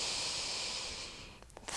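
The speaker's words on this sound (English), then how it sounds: "Breathing just into the upper chest." A long, steady breath is drawn in through the nose during a yoga exercise filling the upper chest, a close soft airy hiss that fades into a short snuffle at the end.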